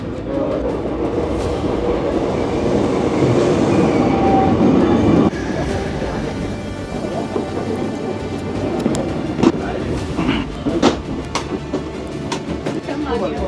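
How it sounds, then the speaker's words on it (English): A train starts moving with a broad, steady rumble and rattle, heard from on board and close, with brief knocks and clunks rising over it toward the end. "Train's moving already."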